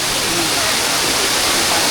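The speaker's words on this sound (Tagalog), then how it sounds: "Running water. Oh, lakas ng tubig oh. Lakas ng tubig mula doon, galing bundok oh." Strong running water rushes down from a mountain stream in a steady, loud, unbroken roar that fills the whole clip with no pauses.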